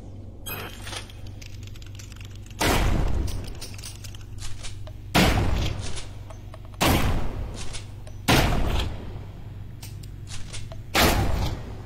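Shotgun blasts in a zombie video game, five loud, sharp booms spaced roughly every one to two seconds over a steady low hum of background game sound.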